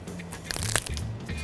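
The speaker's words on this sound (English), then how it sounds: "Ooh, that's Crunchy." A single crunchy bite into grilled food similar to a grilled cheese sandwich, close and crisp with a few brittle cracks, followed by faint chewing.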